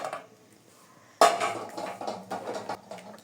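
A zinc wok is handled, giving a sudden loud metallic clatter partway through, followed by scraping and knocking of the pan over a low background.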